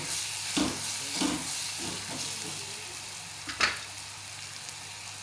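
Potato, cauliflower and soybean mince sautéing in a pan with red chili powder, a steady close sizzle broken by a few soft scraping stirs, with no voices.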